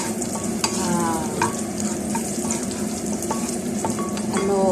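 Ginger sizzling and frying in a pan for pancit, with steady stirring scrapes and crackling throughout, close and fairly loud, no voices.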